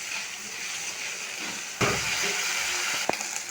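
Onion, tomato and ginger-garlic paste frying in a pan for a stuffed pointed gourd dish, a steady close sizzle and hiss that swells when something is stirred in, with a brief clink near the end.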